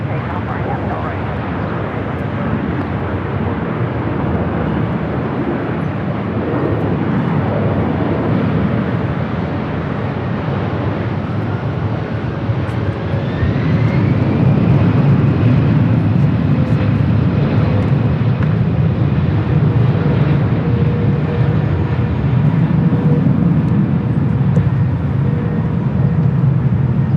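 A Cathay Pacific Boeing 777-300ER in oneworld livery takes off from runway 24 left at LAX. Its engines build into a loud, sustained broadband roar that rises and holds steady, with a commentator talking over it throughout.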